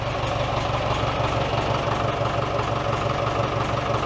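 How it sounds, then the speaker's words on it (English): A David Brown tractor engine with Selectamatic hydraulics runs close by at idle, a steady low rumble that sags and labours as it bogs under load, continuous for the whole stretch with no talk. "You can hear the tractor bogging."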